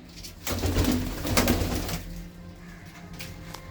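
Pigeons at a pigeon club loft cooing, a soft low throaty murmur rising and falling, fairly close over steady background noise, with no talking.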